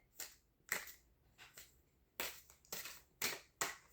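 Tarot cards are shuffled in a series of short, papery riffling bursts, about seven quick flurries spaced irregularly, quiet and close with no talking.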